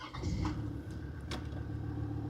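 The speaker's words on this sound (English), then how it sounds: "If I turn the engine on," A Land Rover Defender engine cranks and catches, then settles into a steady low idle rumble, close and moderately loud.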